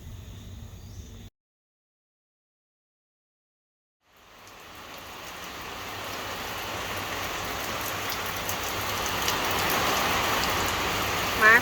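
Steady rain pours down outdoors while straw mushrooms grill over a stove, a dense hiss that swells in after a short silence and keeps building without talk.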